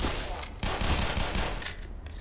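Gunfire in the video game Black Mesa: dense, loud bursts of shots running continuously under in-game noise, with a short lull partway through.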